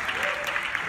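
A short burst of audience applause at a theater Q&A on a Hollywood opening night, a moderate, even wash of many hands clapping at a middle distance with no other sound standing out.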